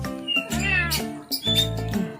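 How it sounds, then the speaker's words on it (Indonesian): A cat meows several times up close, drawn-out and insistent calls in quick succession. "Itu kucing aku."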